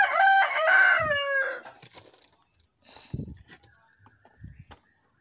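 Free-range native chickens in a small backyard coop: a loud, close rooster crow opens, then scattered soft clucks and low murmurs follow with rustling in between.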